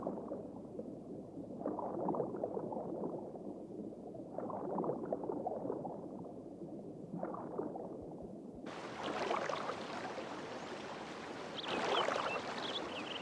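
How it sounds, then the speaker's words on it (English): A river otter slides into a Colorado stream, bringing soft gurgling and bubbling water in slow swells, then a brighter splashing rush of water near the end, quiet and close. "This river otter slides into a Colorado stream in search of a meal."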